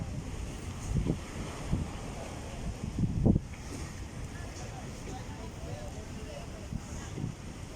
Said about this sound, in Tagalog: Malakas ang alon at saka hangin.